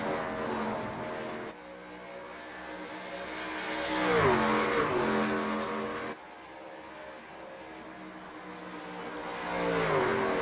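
Race trucks lapping Indianapolis in the iRacing simulator, their engines droning and whining as pitch climbs and falls through shifts, with one truck sweeping past near the middle of the run.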